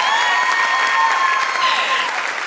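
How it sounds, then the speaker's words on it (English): Audience applause at a TEDxSydney Youth event fills the room, a continuous wash of clapping with a few bright tonal streaks running underneath, steady and fairly loud for the whole stretch. "We can have a round of applause for that"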